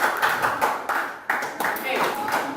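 A classroom group claps after a student presentation, bursts of uneven hand claps rising and falling over a couple of seconds, with voices mixed in.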